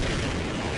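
A rocket blast from an M2A3 Bradley in the video game Half-Life: a short, loud burst of broadband roar that fills the whole moment, with no voices.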